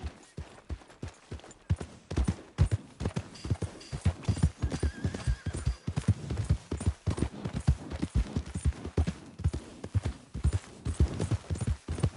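Horse hooves clip-clopping in a steady, busy rhythm, close and fairly clear, with dense overlapping hoof strikes continuing throughout without talk.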